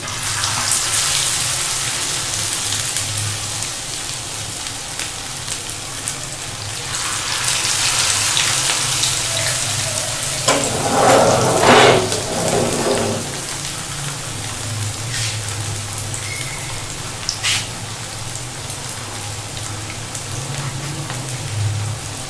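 Beef shami kababs fry in hot oil on a pan over a lowered flame, giving a steady, close sizzle and crackle with a brief louder spatter midway.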